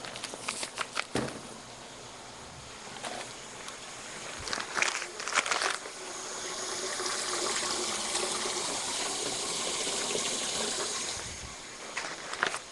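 Tap water pours and trickles steadily for several seconds, with clatter and handling knocks at the start and near the middle, fairly quiet overall.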